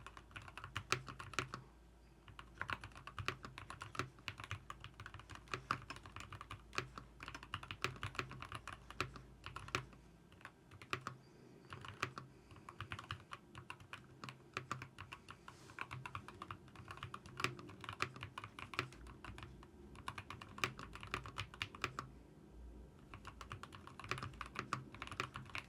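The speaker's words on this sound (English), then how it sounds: "trying to type words." Rapid, steady keystrokes on a Keychron K2 HE keyboard in a home office, close and continuous with irregular clicks and clacks and no talking.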